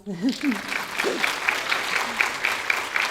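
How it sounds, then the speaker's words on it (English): An audience at a community conversation event applauds steadily after a brief voice at the start, with rhythmic individual claps standing out in the crowd. "There's applause here for that."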